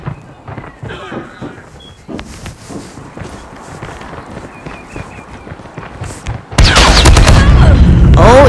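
SMG gunfire in Call of Duty erupts as a loud, sustained burst of rapid shots near the end, following quieter footsteps and scattered game sounds.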